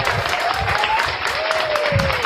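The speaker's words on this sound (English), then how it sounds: "clap it up for Sophia just one more time" An audience claps for a guest on a talk show, a dense burst of applause under a sustained tonal hum, with faint voices mingled in.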